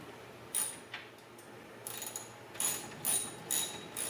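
A half-inch socket ratchet threads nuts onto a swivel seat in a Ram ProMaster van, with short bursts of quiet clicking spaced irregularly between pauses.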